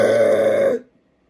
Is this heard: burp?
yes